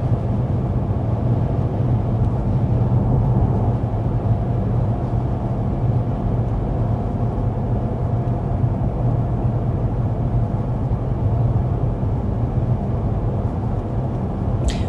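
Steady, loud cabin drone of a 2024 Cadillac CT5-V Blackwing, a 668 hp four-door sedan, cruising on a highway in sixth gear: low engine and road rumble holding even throughout, with no talk.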